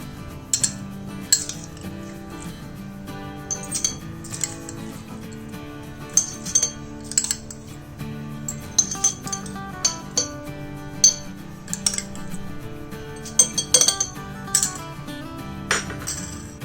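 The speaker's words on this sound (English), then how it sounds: "we're just going to transfer this rice into this bottle. You can use a spoon or whatever" Dry rice grains being spooned from a container into a bottle with a tight cap, a series of bright clinking, rattling scoops in irregular bursts, close and fairly loud, over a steady soft background tone.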